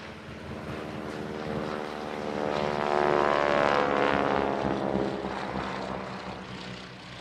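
A propeller biplane with a welded steel-tube fuselage and fabric-covered wooden wings flies past at Farnborough International Airshow. Its engine drone is loud and steady, swells as it nears and then fades slightly, and no voices are heard.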